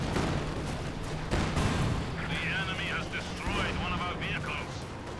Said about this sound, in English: Here comes the Calliope rocket barrage